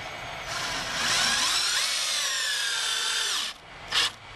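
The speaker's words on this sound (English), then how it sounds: "And drive in your 3-inch screw." A power drill drives 3-inch screws through 2-inch wood while a raised garden bed is built: a loud, close, rising and falling whine for about three seconds, then a brief short burst.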